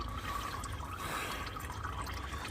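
Engine oil draining from a 1978 Volare after a filter change, a continuous trickling, splashing stream into a pan, steady and close with no talking.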